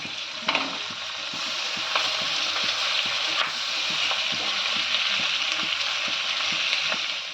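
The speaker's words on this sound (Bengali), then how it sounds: "এবার তিনশো গ্রাম পেঁয়াজ ভেজে নিচ্ছি পেঁয়াজটা একটু ভাজা হয়েছে এবার ক্যাপসিকামটা দিয়ে দিচ্ছি" Three hundred grams of onions with capsicum fry in a pan for restaurant-style chili chicken, a steady close sizzle running throughout with repeated light scrapes and taps of stirring, no voices.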